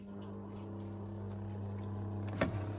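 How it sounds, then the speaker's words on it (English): Water trickling into a washing machine drum during a weak fill cycle, a steady low flowing hum with faint drips, ending with a brief clunk near the end. "So the water coming in is kind of lame, but that shouldn't matter."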